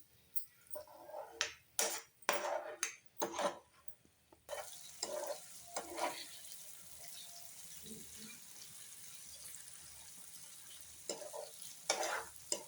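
Chicken pieces frying in a pan with onions, stirred in bursts of scraping and sizzle for the first few seconds, then a steadier hiss with occasional stirring knocks near the end; no talking.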